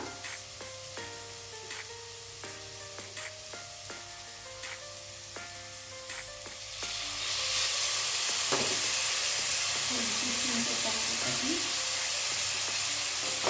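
Bitter gourd frying in a pan sizzles and crackles up close, with tonal clinks and stirring, then tamarind pulp is poured in and the sizzle surges into a loud, dense hiss that continues to the end.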